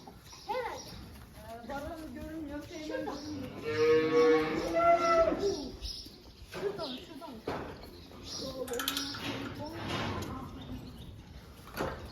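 Young calves kept for sale moo loudly and repeatedly in a barn, close to the listener, with scattered knocks and thumps around them.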